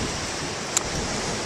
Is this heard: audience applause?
no